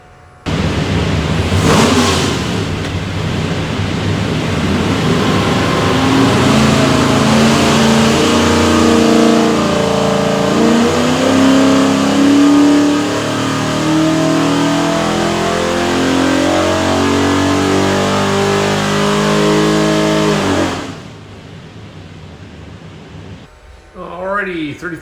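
A 383 stroker Chevy V8 with a custom-grind hydraulic roller cam, built for a '72 Nova SS, runs on a dyno for about twenty seconds, its loud engine note climbing steadily in pitch through a full pull before cutting off abruptly.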